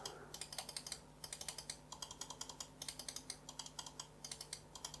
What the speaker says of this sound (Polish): Półtwardy klik, czyli taki mocno idący w stronę twardego, ale jeszcze nie jakiś taki przesadnie twardy.